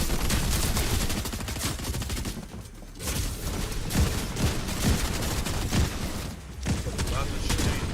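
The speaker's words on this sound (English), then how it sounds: "Lots of shooting." Dense gunfire in a Fortnite match: rapid overlapping bursts of shots and booms, loud and nearly continuous, with brief lulls, while a voice talks over the shooting.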